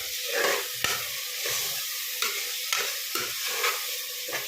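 Chopped tomato and onions fry in a pan under a soft, steady sizzle while a spoon scrapes through them in regular stirring strokes, nearby and moderately quiet.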